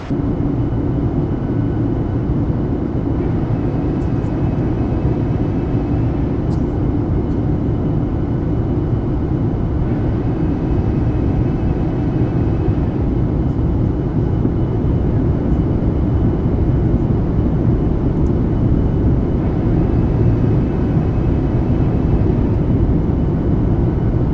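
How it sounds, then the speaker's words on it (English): An airliner's engines drone loud and steady throughout a landing approach in Microsoft Flight Simulator 2020, with a deep continuous rumble and faint high whines as landing gear and flaps extend; no talking. "we're gonna go all the way down to flaps 25 here with gear down as well"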